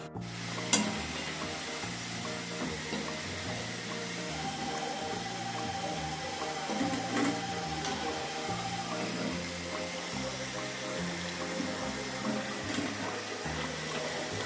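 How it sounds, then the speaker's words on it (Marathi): Onion bhaji fritters fry in oil with a faint, steady bubbling sizzle that continues evenly, with no voices over it. "कांदा भजी करून घेते ही."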